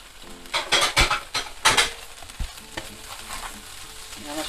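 Cuttlefish, mussels and peeled shrimp sautéing in a pan, sizzling steadily while a utensil stirs with a quick run of scraping, clattering strokes, close up and alone.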